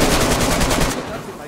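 Rapid close gunfire from an automatic weapon in the survival video game DayZ, a loud burst of shots lasting about a second before cutting off to quieter ambience.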